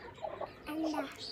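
Hen clucking after laying an egg: a short, close series of soft clucks that rises into a longer drawn-out call near the end.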